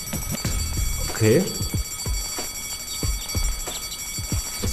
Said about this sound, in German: Da ist jetzt irgendwie ein Alarmsignal.